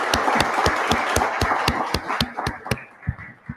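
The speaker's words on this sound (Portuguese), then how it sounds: "só uma salva de palmas para esse time" A small audience at a business launch event claps in a steady, rhythmic beat, close and fairly loud, the claps thinning and becoming scattered toward the end.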